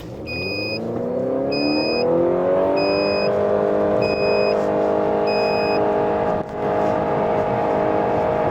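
A Honda Accord Hybrid with 215 hp, a CVT and a 1570 kg curb weight accelerates hard. A loud engine note climbs and then holds at a steady high drone, with a series of short regular beeps early on and no talking.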